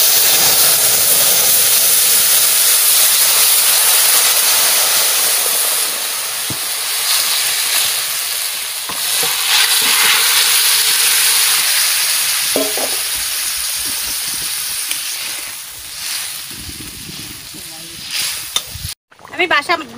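Curry poured into a hot pan with bay leaves for a kochu and fish dish, giving a loud, steady sizzle and hiss of frying that continues for most of the stretch, with brief stirring noises near the end.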